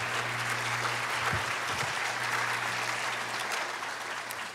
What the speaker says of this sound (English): Would you raise your hand so we can give you a round of applause?